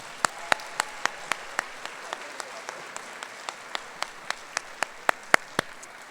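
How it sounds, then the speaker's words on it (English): At a Skyline High School ceremony, clapping for the students comes as sharp, evenly spaced claps in a steady rhythm over a quiet room, more like a few hands keeping time than a roaring crowd. "Give a round of applause to our students."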